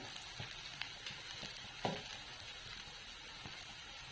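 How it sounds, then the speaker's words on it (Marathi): Poha mixture with sugar and salt sautéed in a home kitchen pan, giving a steady soft sizzle with faint scattered scraping stirs, quiet throughout. "चवीनुसार मीठ आणि हे सगळं चांगलं परतून घ्यायचं"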